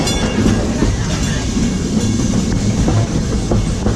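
The Walt Disney World Railroad train rolls along its track at the Magic Kingdom with a continuous loud rumble and rhythmic clickety-clack of wheels, heard from on board.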